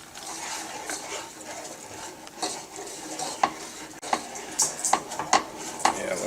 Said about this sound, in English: Just going to add in our brown sugar, and we'll break that up. We'll stir that in,